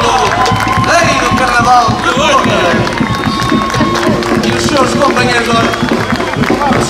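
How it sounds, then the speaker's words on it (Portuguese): Carnival crowd in Torres Vedras applauding for Fernando Martins, a dense, continuous wash of clapping and cheering mixed with crowd voices and talk throughout. "Uma salva de palmas, Fernando Martins."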